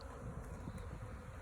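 Honeybees without an established hive swarm toward a new home, a dense continuous buzzing close by with no pauses, alone and without voices.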